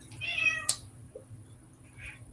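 A pet cat lets out a short meow, close and fairly clear, followed by a quieter faint mew in an otherwise quiet room.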